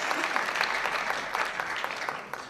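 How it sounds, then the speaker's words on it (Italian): An audience claps steadily at a student showcase, dense even applause throughout with no talk. "Grande applauso."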